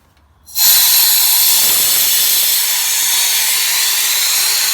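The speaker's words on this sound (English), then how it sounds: "So, Charlie, do you want to release the air from the red nozzle?" Compressed air hisses out of the red release nozzle of a resin pressure pot used for casting Lego figures in resin, a sudden loud, steady rush that keeps going without pause.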